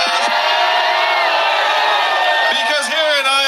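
A large crowd at an outdoor campaign rally in Iowa cheers and whoops in a loud, sustained roar, with shouts and whistles rising through it.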